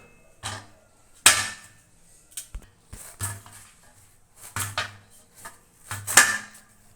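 A knife slices a small cabbage finely on a cutting board for a cabbage-and-carrot snack, giving a dozen or so sharp, irregular chopping knocks close up, with short pauses between strokes and no talk.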